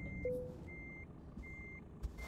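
A truck's reversing alarm in Euro Truck Simulator 2 with ProMods gives evenly spaced high beeps over a low, rumbling engine idle, with no one speaking.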